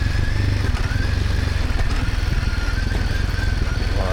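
A Royal Enfield Himalayan 450 motorcycle engine idles close by with a steady, loud, throbbing pulse and some mechanical clatter.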